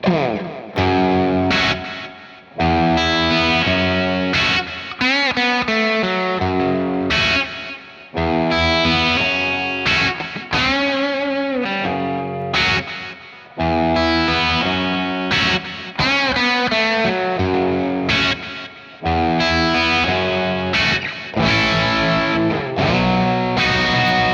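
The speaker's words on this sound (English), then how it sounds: "You can get some old school kind of grind" A Gibson Custom Shop '64 Trini Lopez electric guitar plays loud, distorted old-school grind, strummed chords in repeated phrases with brief gaps between them.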